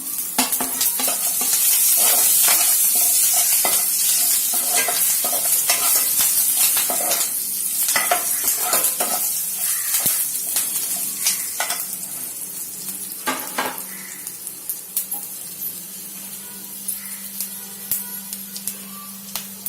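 Curry leaves frying in hot oil with cumin, mustard seeds and garlic, a loud, crackling sizzle with popping bursts and utensil scrapes that gradually calms to a steadier, quieter fry over about twenty seconds.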